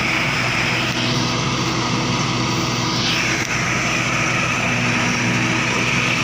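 A Mahindra 655 tractor engine runs steadily close by, a loud continuous low rumble and drone with a faint rising whine partway through.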